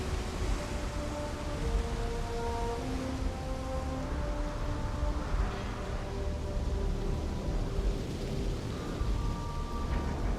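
Rain falling in the video game Starfield, a steady dense hiss of rainfall with faint tonal game music notes drifting over it, continuous and without talk.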